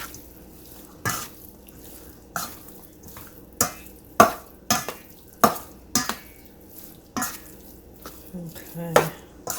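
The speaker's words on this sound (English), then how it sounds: "I'm going to use my spoon to stir it around" A spoon stirring food in a pot in a home kitchen, sharp scraping clinks and knocks repeating roughly every second, close and clear over a quiet background.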